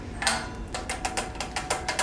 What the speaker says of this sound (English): Then I'm going to take my bottom bracket tool.